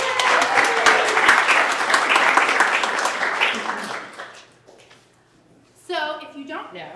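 An indoor town hall audience applauds with dense, loud clapping for about four seconds, fading out, before a voice starts talking.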